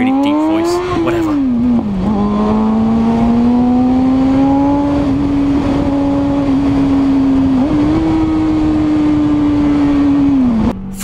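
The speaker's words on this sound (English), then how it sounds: "Freeway plus Nissan GTR plus Lamborghini equals makeshift racetrack." A Nissan GTR and a Lamborghini racing through freeway traffic, a loud, close engine drone holding a high steady pitch with brief dips and rises as gears shift, over constant road roar, with a voice talking over it.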